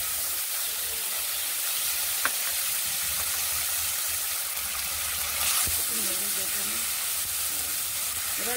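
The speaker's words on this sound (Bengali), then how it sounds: "এবার ওই আদা আর জিরে যেটা বেটে রেখেছিলাম ওটা দিয়ে দিলাম।" Ginger and cumin paste sizzles steadily in hot oil for a Bengali tel koi dish, a continuous close hiss of frying with faint stirring clinks throughout.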